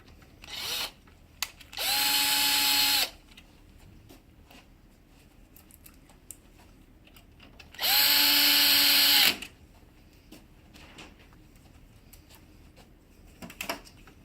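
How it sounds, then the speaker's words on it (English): Two bursts of a power driver spinning screws in while a printer fuser is reinstalled, each lasting about a second, close and fairly loud, separated by quiet handling noise and small clicks. "Good magnetic tip screwdriver will save you a lot of time in this process."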